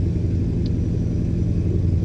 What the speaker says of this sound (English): The engine sounds crap, more or less